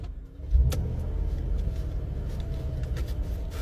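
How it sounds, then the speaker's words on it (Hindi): A Mercedes-Benz E-Class (2024) with a quad exhaust setup starts up: a short crank and catch about half a second in, settling into a steady low idle hum that continues to the end, with no talking. "ये इस गाड़ी का स्टार्टअप।"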